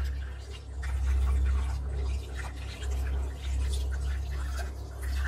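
Tap water runs steadily over hands being washed before injection skills practice, a continuous close hiss and splash with a low hum beneath and no talking.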